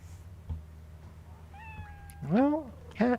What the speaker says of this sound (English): Well, cat.